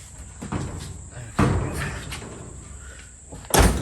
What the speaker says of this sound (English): That door.